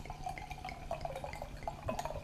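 Enchanted Manor bochet mead is poured from a bottle into a glass, giving quiet, close, bubbling trickles and small glugging drips that run for a couple of seconds.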